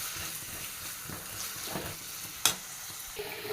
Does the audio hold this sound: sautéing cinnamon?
yes